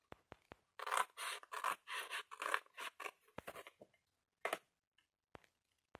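Scissors snip straight through paper strips for a Harry Potter decorative frame craft, a run of quick, close, crisp cuts in bursts followed by a few sparse single snips and quiet pauses.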